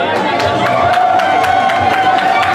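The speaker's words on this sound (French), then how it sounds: "Tous vos applaudissements" Steady applause and cheering at a school excellence awards ceremony, with rhythmic clapping from a large crowd and voices chattering and shouting through it.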